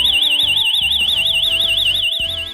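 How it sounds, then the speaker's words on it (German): A home alarm system's siren, set off by its motion detector, wails loud and close in a fast rising-and-falling electronic tone, with a few thumps and knocks underneath. "Die Bewegung wird registriert und sofort geht die Sirene an."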